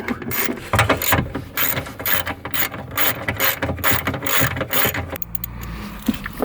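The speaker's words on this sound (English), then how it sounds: "You're gonna need an 8mm to get these out." Ratchet wrench with an 8mm socket backs out subwoofer screws in an Acura TL, giving rapid, close, loud clicking in continuous bursts, with a brief low thud near the end.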